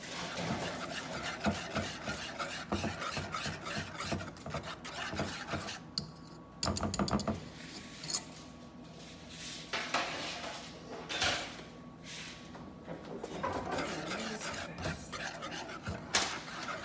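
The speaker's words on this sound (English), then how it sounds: "You'll see the caramel forming. But you gotta constantly stir." Caramel being stirred continuously in a pot on the stove, with a steady scraping and rubbing of the utensil against the pot's base and a few louder knocks, close and alone throughout.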